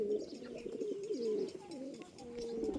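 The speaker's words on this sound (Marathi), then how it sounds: "आणि इकडे एवढे सारे कबूतर आहेत." Pigeons in a home pigeon loft holding Shiraz, fantail and Indian breeds coo softly and steadily close by, in low rolling repeated calls with a faint chirp or two.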